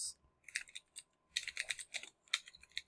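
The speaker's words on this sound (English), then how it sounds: "I'm going to just start typing lowercase" Typing on a computer keyboard while entering a lowercase SQL query: bursts of crisp, close key clicks separated by short pauses, with no talk.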